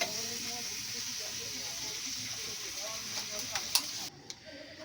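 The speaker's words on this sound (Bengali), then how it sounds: "এই যে মাংস রান্না হচ্ছে" Meat cooking in a pot makes a steady sizzle with faint stirring and clinks throughout, soft and close, ending in a brief quieter moment.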